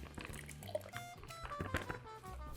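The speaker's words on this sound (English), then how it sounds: "And we're going to pour it into our jar." Lavender syrup pours into a jar, giving a short run of gurgling, trickling liquid sounds with small drips and clinks, fairly close and heard alone.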